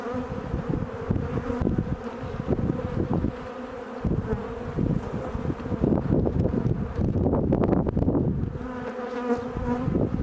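Honey bees buzz loudly and continuously around an open beehive during an inspection, a dense droning hum that swells and dips as the insects pass near.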